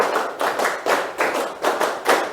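A class of students clapping in unison in a counted pattern, five or six sharp group claps at a steady rhythm, close and clear with no talking.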